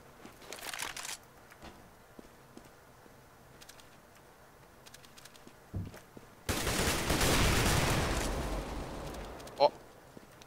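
Desert Eagle pistol fire in the video game Counter-Strike, with scattered shots and a loud burst of gunfire near the end, heard under excited player chatter.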